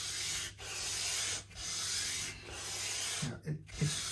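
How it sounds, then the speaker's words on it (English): Steady back-and-forth sanding with a lighter grade of sandpaper on a Yamaha Silent Guitar part, long rasping strokes separated by brief pauses, close and fairly quiet, ending in a few short scrubs. "shift down to the lighter gauge grade of sandpaper"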